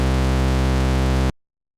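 Default patch of the TAL LX synthesizer plugin: one sustained, harmonically rich tone held steadily for over a second, then cut off abruptly into silence.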